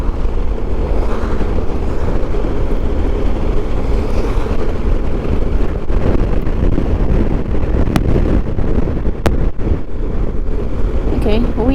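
Strong wind buffets the microphone continuously on a solo motorcycle ride through the Pacific Northwest, a loud broadband roar with low rumble that persists throughout with no speech.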